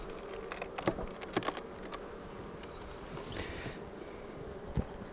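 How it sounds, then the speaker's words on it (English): Honey bees working inside a beehive super during preparation for the honey flow, a soft continuous buzz with faint scattered ticks and taps, fairly quiet and close. "Has a lot of bees working in it."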